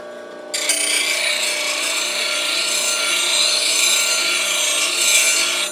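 Steady abrasive rasping as the bevel of a woodturning detail tool is cleaned up, loud and close, starting abruptly after a brief quieter moment and continuing evenly with no talk.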